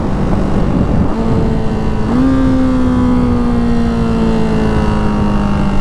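A Ducati Hypermotard 698 Mono motorcycle engine drones steadily, with its pitch jumping sharply at a downshift and then sliding slowly lower as the bike slows into a turn.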